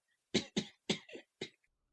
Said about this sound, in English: A faint, quivering cough sounded as though from nowhere.